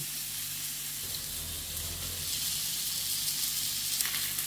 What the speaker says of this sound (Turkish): Köfteleri de arkadaşlar sürekli çevirerek de kızartabilirsiniz.